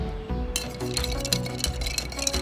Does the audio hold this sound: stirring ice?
yes